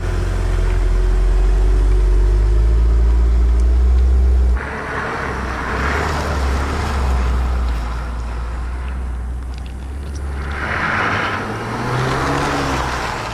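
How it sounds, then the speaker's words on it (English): An Alfa Romeo Tonale SUV engine drones steadily with a deep, throaty sport exhaust rumble, shifting pitch midway as it revs and settles, loud and close. "Slightly more aggressive exhaust."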